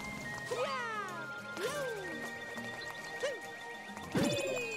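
Cartoonish cat meows from the Super Mario Bowser's Fury video game, several separate rising-and-falling mewing calls spread across the stretch, loudest near the end, over a busy bed of game music and effects.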